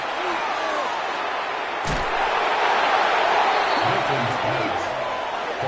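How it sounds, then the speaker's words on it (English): Stadium crowd noise in a Madden football video game, a loud continuous roar of a cheering crowd filling the whole stretch, with a brief thud near the middle. "This crowd turning up the decibel level."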